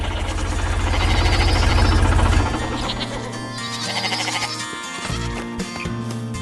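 Cartoon white sheep bleating on a farm, loud and close at first over a low droning, then fading into layered busy background sounds with faint bleats.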